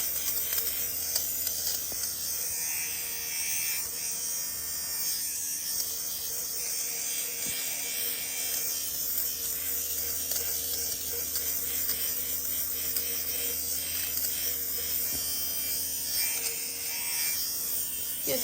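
Electric fabric shaver buzzing steadily as it shaves pills off a sweater, a continuous close motor whir with faint scraping throughout.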